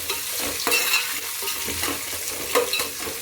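Long-cut onions fry in oil in a pan while being stirred, making a constant sizzle broken by repeated scraping and clattering spoon strokes near the microphone.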